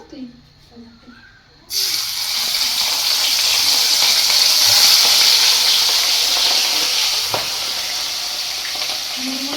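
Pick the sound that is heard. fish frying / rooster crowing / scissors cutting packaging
fish frying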